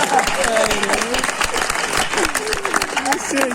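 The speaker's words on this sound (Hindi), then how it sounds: "एक बार जोरदार तालियां बजाना।" Audience applause at a Hindi comedy poetry show rises as steady crowd clapping while a voice talks over it.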